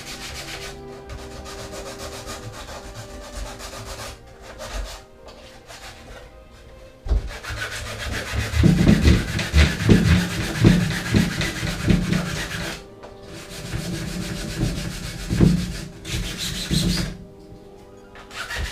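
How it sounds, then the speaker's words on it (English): Hand sanding a cosplay prop Buster Sword with sandpaper, a steady rubbing rasp that grows louder and more rhythmic midway, with quick back-and-forth strokes heard up close and alone. "So with sandpaper we can make it really thin like that and just get it into nice and get into this groove."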